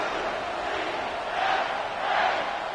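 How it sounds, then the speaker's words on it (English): Stadium crowd in an EA Sports College Football 25 game between UCF and the Arizona State Sun Devils, a broad sustained roar that swells twice, with no commentary over it. "And this crowd is ready for a big one."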